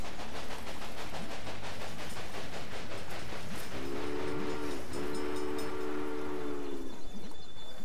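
Railway Empire video game train running along track, a continuous rumbling clatter with a two-part horn blast sounding midway, steady and fairly loud with no speech.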